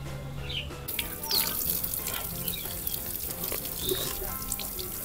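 Water splashing and trickling steadily onto freshly sown wild pak wan (Melientha suavis) seeds in an organic garden during morning watering, close and continuous with faint birds in the background.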